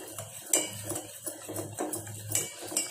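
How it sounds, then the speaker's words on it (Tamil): A utensil mixes chocolate in a bowl, clinking and scraping against the sides in quick, uneven strokes, close and fairly soft, with no talking. "கொஞ்சம் கொஞ்சமாக நம்ம மிக்ஸ் பண்ணி விட்டுக்கலாம்"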